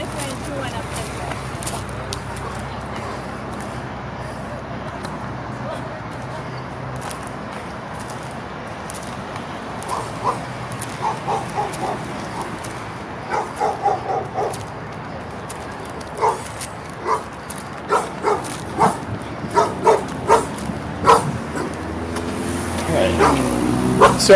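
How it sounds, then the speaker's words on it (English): A dog barks repeatedly at a distance on a residential street called Crescent during a search for escaped goats, the sharp barks coming in irregular bursts over steady outdoor noise and passing traffic, with people talking nearby. "I'm being barked at"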